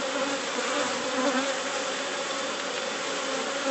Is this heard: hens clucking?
no